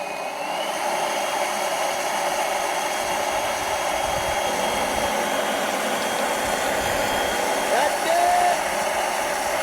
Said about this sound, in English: now I'm gonna go put air pressure into the fuel tank and see if we can force fuel out